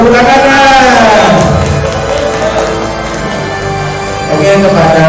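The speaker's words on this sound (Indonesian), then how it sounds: "Tepuk tangan" Audience applause for prize winners at an Islamic school fair's grand closing, a loud, sustained crowd clapping with some cheering, mixed with a presenter's voice and background music.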